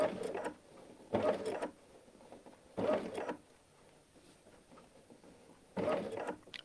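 A Baby Lock Anthem sewing machine runs a basting stitch in four short bursts of motor whir and needle clatter, each lasting about half a second, separated by quiet pauses, heard close and alone.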